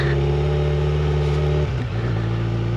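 A Kawasaki Z900 motorcycle riding off-road on a muddy dirt track, its engine droning steadily and close, with a brief dip in tone as the rider shifts into second gear.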